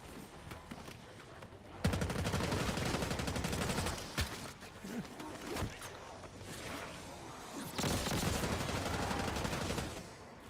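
Gunfire in a zombie shooter video game comes in loud, dense bursts of rapid shots separated by short lulls, a steady barrage that stops and starts several times.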